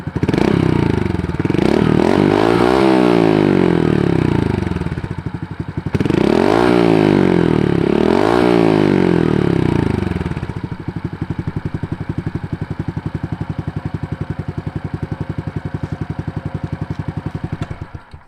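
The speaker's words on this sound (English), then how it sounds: "It's warm, so I can give it some revs for you." Honda Dax 125 fitted with a Yoshimura Cyclone exhaust, warmed up, revs loudly and close in two long throttle blips, each climbing and falling, then settles into a steady, throbbing idle.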